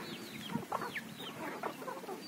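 Free-range native country chickens cluck and call in a rural yard near Madurai, several birds giving short, rising clucks and squawks at moderate distance over quiet background.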